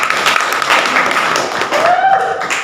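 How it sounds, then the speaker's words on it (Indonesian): Audience applause in a classroom-style teacher training session, a loud close burst of clapping from a group that carries on throughout, with a brief whistle-like tone near the end. "terima kasih untuk Beluci, kita beri tepuk tangan"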